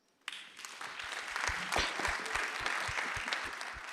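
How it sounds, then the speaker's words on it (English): Audience applause breaks out at a policy summit in Paris after a panel on data governance, with many hands clapping densely and steadily from just after the start to the end, fairly loud and with no speech. "I guess you deserve definitely some applause."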